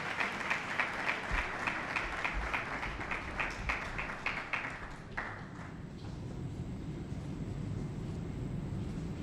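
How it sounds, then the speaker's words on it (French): Audience applause at a conference on sexual harassment in the media, with a steady wash of clapping for several seconds that thins and fades toward a quieter room tone near the end. "Sous vos applaudissements."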